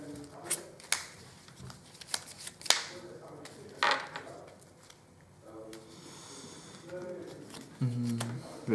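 Playing cards drawn from a deck during a Weiss Schwarz card game, giving a few short, close rustling flicks and slides between quiet pauses, with some faint handling noise and a soft low thump near the end.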